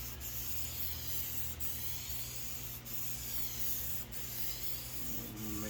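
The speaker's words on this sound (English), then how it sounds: "I'm going to try to spray it just a little heavier on the top and that bottom there." A spray paint can hisses in a steady, continuous stream while paint is laid onto a backdrop, with faint periodic clicks and soft rubbing underneath.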